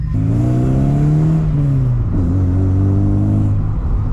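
A VW Golf Mk3 cabriolet's engine hums steadily at close range while driving, its pitch rising and falling with gear changes, with a constant rush of road and wind noise.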